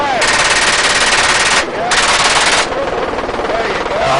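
Long, loud bursts of rapid machine gun fire from a gunship helicopter on a battlefield, two sustained volleys followed by a shorter one, with the helicopter's rotor and engine droning steadily throughout.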